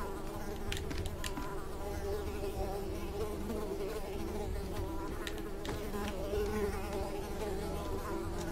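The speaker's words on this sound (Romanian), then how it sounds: "Nu pot să merg repede din cauza țânțarilor." Mosquitoes in the game Unravel, a dense, continuous insect buzz close and loud, holding steady with slight wavering throughout and no voices.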